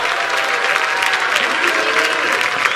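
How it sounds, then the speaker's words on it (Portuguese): A church audience claps loudly and continuously, dense overlapping applause filling the room with a faint crowd murmur and occasional voices beneath it. "Dê a salva de palmas ao Senhor"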